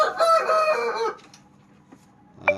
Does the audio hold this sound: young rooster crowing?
yes